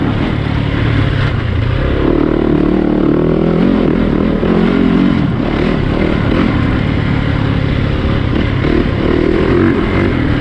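Close, continuous engine roar from a 2020 Yamaha YZ450FX dirt bike on a test ride, the throttle swelling and easing in a few surges over a constant loud drone.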